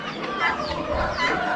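Rooster clucking in a mixed flock at an Amish animal auction, a busy, continuous din of fowl sounds that swells and eases over a second and a half, with no clear single crow standing out.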